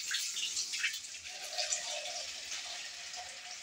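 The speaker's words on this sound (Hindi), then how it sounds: "पानी है बेटा, चलो बंद करो, बंद करो" Water runs steadily from a tap at home, a faint continuous hiss and splash lasting throughout with no talk over it.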